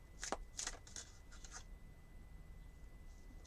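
Tarot cards of a Nordic deck being shuffled by hand, several quick crisp riffling bursts close to the mic, then quiet rustling fades into soft room hush.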